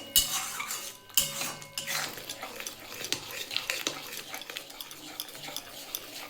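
Banana stem paste being fried and stirred in a pan: a metal spoon scrapes and clinks against the pan in uneven bursts, fairly close, with soft frying hiss and brief clatter between strokes.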